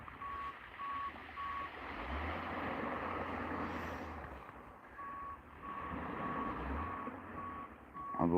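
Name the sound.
bulldozer reversing beeps on the beach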